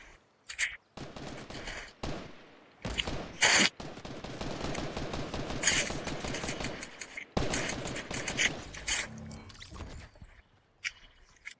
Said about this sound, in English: Where's the people shooting me from?